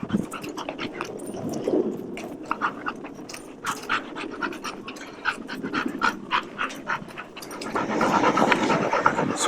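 A reactive dog on a walk in public pants rapidly and rhythmically close by, with occasional whimpers and snuffles, steady and loud throughout with some background noise rising toward the end.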